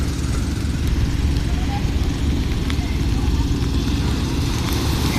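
Steady low engine rumble of fishing boats heading out in big waves, motors chugging nearby, with wind and water noise layered on top.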